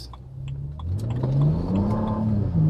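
A BMW 335i with an N54 engine and limited-slip differential revs up steadily while accelerating, its pitch climbing and holding strong, close and loud with no talking.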